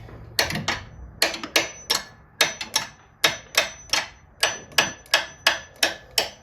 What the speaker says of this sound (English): get it started with the hammer.